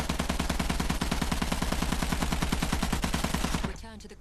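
Rapid automatic gunfire in the Battlefield 1 video game, a dense, loud, continuous burst of shots that stops abruptly near the end, leaving quieter ambient game noise.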